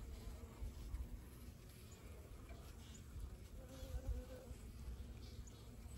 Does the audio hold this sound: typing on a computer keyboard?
no